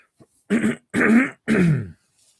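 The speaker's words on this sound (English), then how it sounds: "I have to clear my throat for this one." Three rough, voiced throat-clearing bursts in quick succession, close and fairly loud, each about half a second long, with brief pauses between them.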